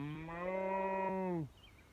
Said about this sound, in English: So as you can see, all the different cattle on the side of this fence.